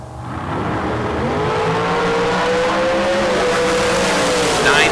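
A dragster launches hard down a drag strip at a bracket race, its engine roaring loud and close, then climbing steadily in pitch as it accelerates away.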